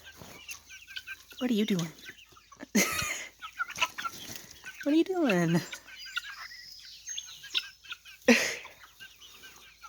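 A rebel chicken clucks repeatedly in short, close, pitched bursts, with a person talking between and over the calls.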